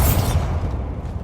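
A Bombarda blasting spell goes off in Hogwarts Legacy, a loud close explosion with a deep booming body and crackling debris that fades quickly over about a second.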